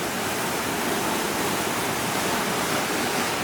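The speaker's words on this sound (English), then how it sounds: "The water noise has got a lot louder here." River rapids beside an abandoned cotton mill roar steadily, a dense, loud, unbroken wash of rushing water with no voices.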